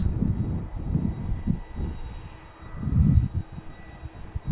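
A Cargolux Italia Boeing 747 cargo jet arriving at Amsterdam Schiphol after a flight from Nairobi, its engines a steady, fairly loud low roar that swells and fades slightly, heard alone from a distance.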